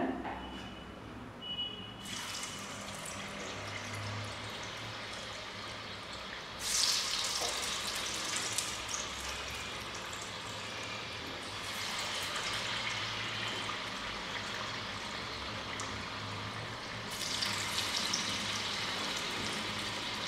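Parotta pieces dipped in maida batter fry in hot oil with a continuous crackling sizzle that swells and settles in waves, steady and close throughout with no talking.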